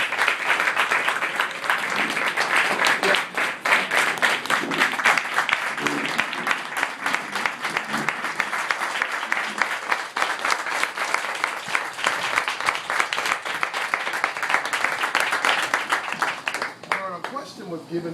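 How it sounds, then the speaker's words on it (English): A large audience applauds steadily for about eighteen seconds at a fireside chat, a dense, even wash of clapping that tapers off near the end, with some voices mixed in. "please give me a round of applause"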